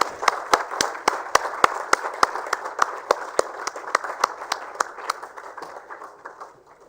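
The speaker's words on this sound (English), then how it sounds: "Can we have a big round of applause for them as well?" Rhythmic, evenly spaced claps ring out sharply at an awards ceremony, steady and moderately loud, with a faint crowd murmur underneath, more like slow group clapping than a full ovation.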